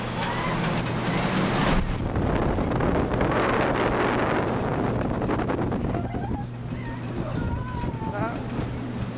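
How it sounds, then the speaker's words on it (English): Wind buffeting the microphone on the open-air observation deck of the Stuttgart TV tower, a loud, steady rumbling roar throughout, with snow falling and faint voices and distant city sounds underneath. "It's a little bit windy out here."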